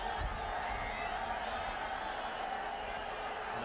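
A large stadium crowd makes a steady roar at a 1998 Gold Cup football match between El Salvador and Brazil in Los Angeles. The sound is a continuous, even wash of distant voices.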